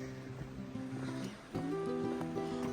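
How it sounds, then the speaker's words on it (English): A small creek on the Appalachian Trail in Virginia runs as a continuous, nearby wash of flowing water with a faint tonal hum over it. "Little creek running down through here."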